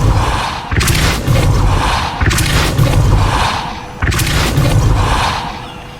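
Three heavy booming Repulsor spell blasts in Hogwarts Legacy, each a loud low thump with a whooshing burst that sustains and fades, evenly spaced about every one and a half seconds.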